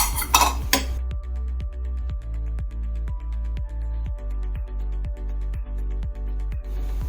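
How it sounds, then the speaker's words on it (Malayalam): Rambutan buttermilk curry is stirred in a pot with a spoon, which scrapes and clinks in a steady rhythm of roughly two strokes a second over a constant low hum, after a brief louder clatter at the start. "നല്ലപോലെ ഇളക്കി കൊടുക്കാം"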